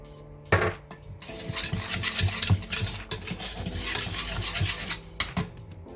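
A salt and pepper grinder turns over egg salad with a gritty, rasping crunch in short repeated bursts, close by, with a few light clinks of utensils.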